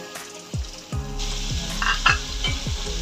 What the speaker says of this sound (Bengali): কাঁকড়াগুলোকে হালকাভাবে নেড়ে চেড়ে দেওয়া হচ্ছে